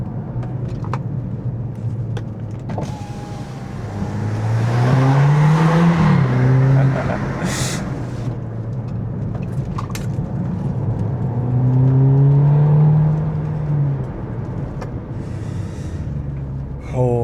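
An Audi quattro with a manual gearbox drives through a bend, its engine heard from inside the cabin, revving up and dropping back twice with rising and falling pitch under steady road noise.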